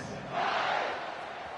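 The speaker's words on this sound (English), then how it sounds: "this crowd is feeling themselves after that last drive" A stadium crowd in the College Football 26 video game gives a broad swelling roar that rises and then eases off slightly, loud and alone with no talking.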